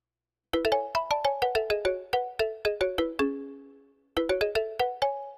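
A Roland Fantom synth patch played dry with its delay switched off, a run of bright bell-like plucked notes in a quick rhythmic phrase, a short pause, then a second run. Clean, close and alone.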